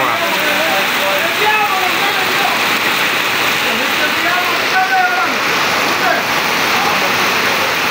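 Torrential rain pouring down in Sabaneta, San Juan de la Maguana, a dense, loud, unbroken hiss of water. Spanish voices are heard faintly beneath it.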